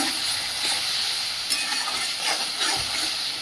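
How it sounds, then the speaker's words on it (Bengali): Red chili powder and ground cumin sautéed with spices in a pan, a steady close sizzle with faint stirring scrapes and no voices. "সামান্য লাল লঙ্কার গুঁড়ো, দিয়ে ভালো করে কষিয়ে নেব।"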